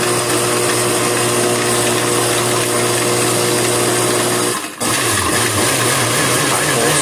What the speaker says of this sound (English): what I'm going to do is just throw what I have in a regular blender